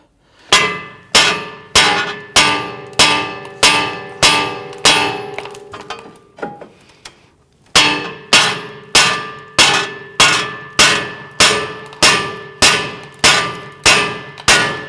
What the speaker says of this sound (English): That's going to allow us to go ahead and whack this down off of the strut assembly.